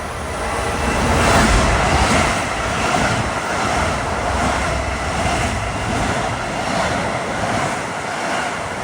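LIRR train 2057 running westbound from Ronkonkoma to Grand Central at Garden City, a steady rushing rumble with rhythmic swells as cars pass, fairly close, mixed with wind buffeting on the microphone.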